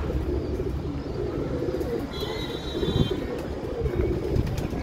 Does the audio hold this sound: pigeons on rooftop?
yes